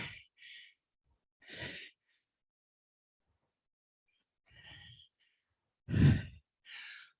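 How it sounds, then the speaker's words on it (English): Heavy breathing during a rowing workout, five separate breaths with long silent gaps between them: sharp hissing exhales and sighs, close to the microphone, the fourth breath loudest, with no talk. "Ooh, heavy breathing."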